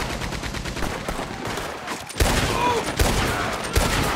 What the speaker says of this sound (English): Damn, it really is a Gatling gun.